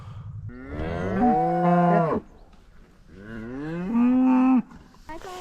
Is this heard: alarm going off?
no